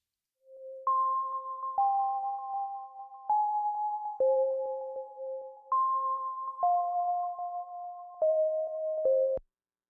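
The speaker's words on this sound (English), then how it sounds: "The last plugin I used was a stock preset called Gentle Sign Bells." Soft synthesized bell tones from the Gentle Sign Bells preset play a slow melody, one sustained note at a time with clean attacks, alone against silence.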